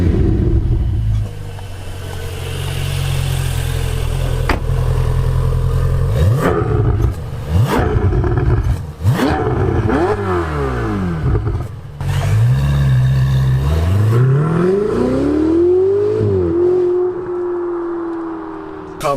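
A Ferrari 488 GTB engine roars under way, a deep steady drone giving way to repeated sweeping revs that rise and fall as it accelerates and shifts, loud and close.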